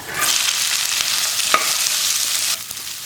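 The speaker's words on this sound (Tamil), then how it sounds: "இப்போ இது எல்லாத்தையுமே நான் எண்ணெயில் சேர்த்துடுறேன்." Raw chopped carrot, capsicum, beans and cabbage for chicken fried rice hit hot oil in a pan, giving a loud continuous sizzle with a few stirring scrapes, close and with no talking.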